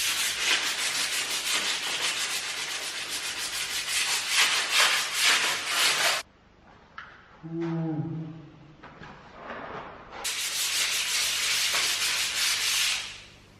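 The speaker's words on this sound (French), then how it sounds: "Ce qu'il faut que je fasse aujourd'hui, c'est poncer ce mur là" Sanding a wall in an entrance hall during renovation, a loud, dense rhythmic rubbing that runs for several seconds, pauses briefly, then resumes, close by with no talk.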